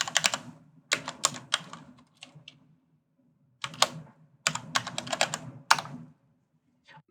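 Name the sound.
typing on a computer keyboard to rename a node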